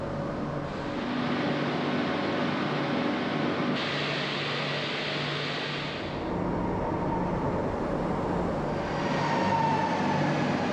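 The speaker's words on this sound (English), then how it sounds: "await my train to the airport" A commuter train pulls into an underground Cercanías platform in Málaga, a steady echoing rumble with shifting mechanical tones as it arrives.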